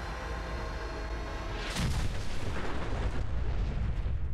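An explosion goes critical in Fallout 4, a sudden heavy boom breaking over a steady background hum and settling into a sustained loud, roaring rumble.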